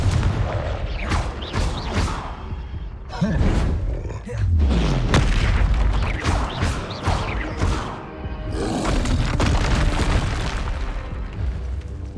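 Confringo blasting curses in Hogwarts Legacy explode repeatedly, heavy booming blasts with deep rumbling tails and crashing debris, loud and close, while the player's voice casts spells over the top.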